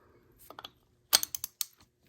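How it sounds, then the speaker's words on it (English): A ratchet works a bolt loose on the rack and pinion of a 1993 Ford Taurus, two short bursts of quick clicking, the second louder and sharper, close up with no talking. "Okay, the next bolt I'm taking out is this one right here."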